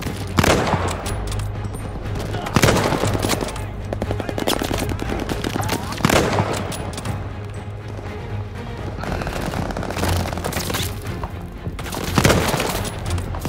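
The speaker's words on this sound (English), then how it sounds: "so I can get some shots off on the enemy" Bursts of rapid machine-gun fire and single shots ring out in the Call of Duty: Vanguard video game, loud and repeated, with intermittent voices in between.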